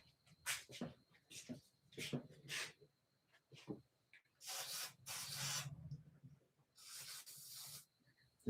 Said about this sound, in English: Let's see if I can spray some WD in there or something.